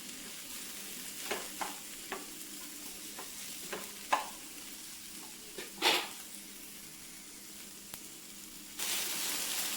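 Okra stir-fry seasoned with powdered salt being stirred in a pan, with scattered spatula scrapes and clinks over a soft, steady sizzle and no voices; a brighter hiss rises near the end.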